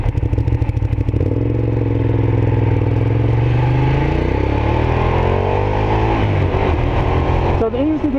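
A Ducati Diavel motorcycle revs hard, climbing up a canyon road in a loud, close, sustained engine roar. The pitch climbs as it accelerates, then drops and rises again through gear changes, with wind buffeting throughout.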